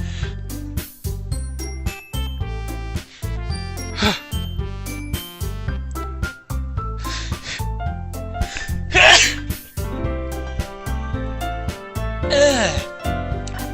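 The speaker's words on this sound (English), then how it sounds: "I don't know why I sneezed." A person sneezes several times in a visual novel game scene, sharp bursts over looping cheerful background music with chimes.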